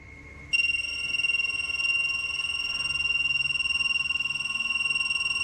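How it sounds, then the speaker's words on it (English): An EMF sensor held toward a ceiling emits a loud, steady electronic tone that jumps to a higher, piercing pitch and holds with a faint pulsing, close to the listener and without talk. "an EMF sensor, which starts beeping dramatically when it's held up toward one part of the ceiling"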